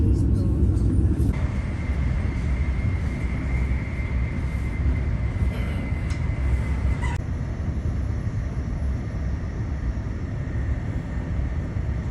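Train standing at a station platform in Italy, a steady low rumble and hum filling the background beneath a public address announcement, with a faint tonal whine partway through.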